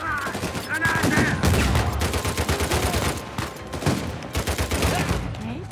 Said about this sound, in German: Ich wollte halt nicht so wahllos drauf rumschießen, aber ich mach's einfach.